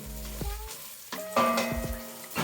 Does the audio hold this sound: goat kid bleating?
no